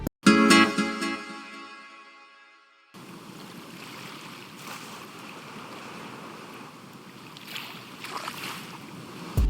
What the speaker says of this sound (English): Then for some texture, we got some waves from the same kit.